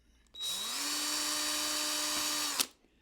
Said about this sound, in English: And then I'm going to drill these 2 holes.